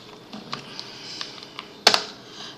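Fingers type code on a computer keyboard, a few light, irregular key clicks close by, ending in a sharper, louder keystroke near the end.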